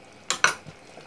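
Quick stirring strokes in a pan of cream sauce thickened with a starch mixture, two short scraping swishes close up, then quiet.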